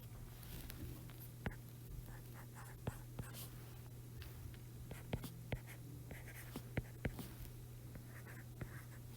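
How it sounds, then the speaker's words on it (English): Pen or pencil writing out linear equations by hand while solving a system by elimination, a steady faint scratching with short tapping strokes, close and quiet over a low steady hum. "I'm going to write them down here."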